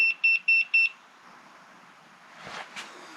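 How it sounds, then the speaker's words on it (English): Four quick electronic beeps from an arc-fault circuit breaker in a rapid, evenly spaced series after it trips, followed by quiet room noise and a couple of faint brief shuffling sounds. "This thing's beeping again"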